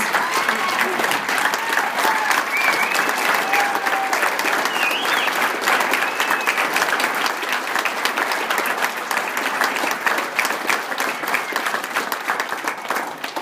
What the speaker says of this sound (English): So let's get a standing applause for these girls.